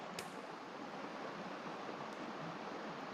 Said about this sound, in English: Pour myself a nice cup of joe.